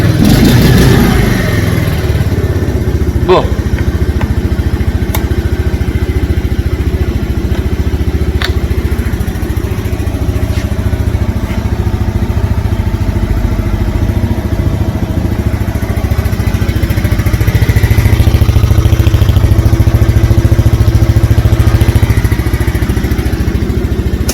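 KUBA SJ50 Pro motorcycle with a standard engine kicked over and settling into a steady, loud idle that runs continuously throughout, with a faint mechanical rattle and no talk over it.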